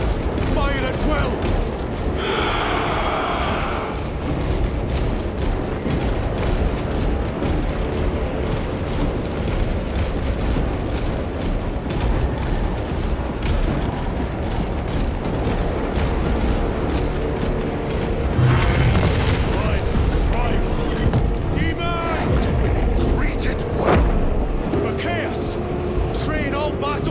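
Dense battlefield din from the Space Marine 2 video game: massed gunfire, rumbling explosions and mechanical clatter continuing for the whole stretch, with shouted voices over the loud combat noise.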